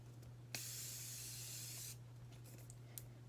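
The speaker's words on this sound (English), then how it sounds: "I'm gonna just spray my face with my Morphe spray" Morphe setting spray misted onto a face during a glitter makeup routine, a single steady hissing burst of about one and a half seconds, close and fairly loud, followed by quiet room noise.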